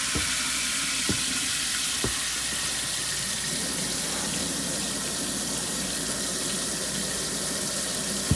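Water runs steadily from a kitchen tap during pork butt and brisket prep, a continuous hissing stream with a few soft knocks early on, close by and unbroken.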